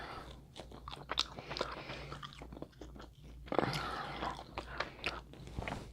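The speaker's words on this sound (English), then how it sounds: "I'm eating all these crab legs." Crab legs cracked and eaten at a seafood boil with shrimp and sausage, close and loud: irregular crunches, snaps and wet chewing bursts with no speech.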